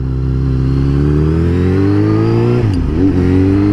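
A Suzuki GSX-S 750 motorcycle engine pulls hard in second gear, a loud close rising drone that climbs steadily in pitch, then dips and recovers briefly near the end.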